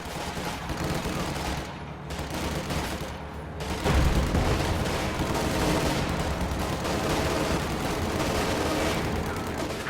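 Anti-tank guns and small arms firing in a World War II strategy game battle, a continuous loud barrage of shots and heavy booms.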